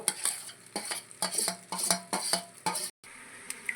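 Stuffed okra fries in a pan while a spatula stirs and scrapes it in quick, rhythmic strokes over a light sizzle, with a brief pause before the stirring resumes more softly.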